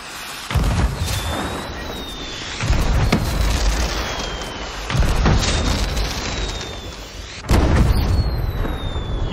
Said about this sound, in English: Load banana firework.